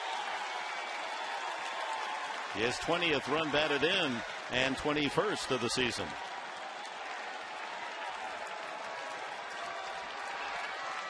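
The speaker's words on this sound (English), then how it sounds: "The Mets fans here able to cheer." A crowd of Mets fans at a 2010 baseball game in San Diego keeps up a steady background cheer and applause while a commentator talks over it in the foreground.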